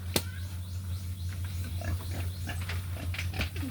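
Several short grunts and snuffles from a group of about twelve two-month-old pigs near 50 kg, scattered over a steady low hum, close by, with no talking.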